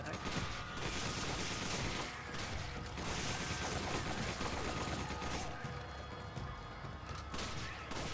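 Dense, sustained gunfire in Resident Evil 5, with rapid overlapping shots and bursts filling the whole stretch, loud and close, with little pause between volleys.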